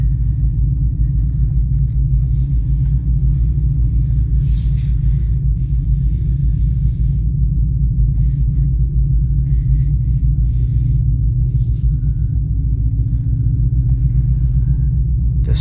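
A car engine idling with a deep, steady, fairly loud rumble that holds unchanged throughout, with no talk over it.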